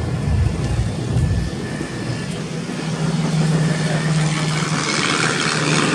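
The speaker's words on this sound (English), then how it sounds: "The SE-5A that you see today, as I mentioned, is a 7/8 scale replica." A 7/8 scale SE-5A replica biplane flies at a Battle of Britain anniversary airshow in Delta, BC, its steady engine drone carrying at a distance with a continuous low rumble and no speech.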